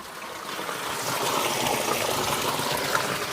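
Water pouring out in a steady, loud gush, a continuous close rushing and splashing with no break, heard on its own without speech.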